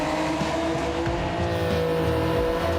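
A Honda NSX race car at Spa in Gran Turismo 7, its engine droning steadily and loud with gear changes and faint tire noise, alone without talk.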